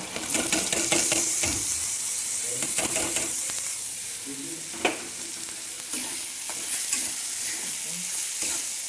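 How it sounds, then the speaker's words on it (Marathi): Barnyard millet (vari) rice crackles and sizzles steadily as it is stirred and dry-roasted in a pan, with frequent scraping stir strokes and occasional utensil knocks, close and fairly loud with no talking. "चटकतं आहे आणि सारखं हलवून घ्यायचं आता धुतलेले वरचे तांदूळ"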